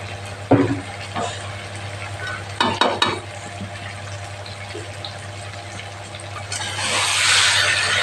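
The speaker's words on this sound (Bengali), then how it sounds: "এভাবে নেড়ে নেবেন, চিনিটা মিশিয়ে দিচ্ছি।" Tangra fish cook in a frying pan as a spatula stirs them, with a faint sugar sprinkle, giving scraping clatters and bursts of sizzle over a low steady hum, the frying hiss swelling louder near the end.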